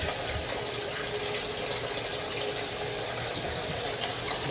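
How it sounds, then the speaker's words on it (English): Tap water gushes steadily into a cooking pot, a loud, continuous rushing splash heard close and alone for several seconds. "Fill this up with water."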